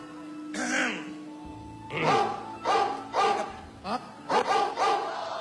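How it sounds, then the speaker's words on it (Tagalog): A dog barks repeatedly on a live TV variety show, a run of sharp, loud barks coming in quick clusters that grow more frequent toward the end, mixed with nearby voices. "Akala ko ba yung mga aso ay nasa farm?"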